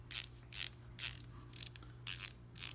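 A Snap-On ratcheting screwdriver turning in short strokes, giving six quick bursts of crisp mechanical clicking, close and alone against a faint steady hum.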